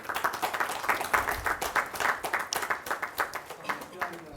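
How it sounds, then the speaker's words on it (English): Audience applause at a panel discussion during a memento presentation, a steady run of many hands clapping at moderate distance with a rhythmic, slightly uneven texture throughout. "Big applause to him"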